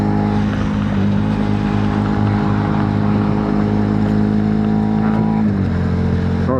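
Suzuki SV650 motorcycle engine cruising steadily at 70 mph in 4th gear, a loud continuous drone with constant pitch and heavy wind rush, only a slight dip near the end.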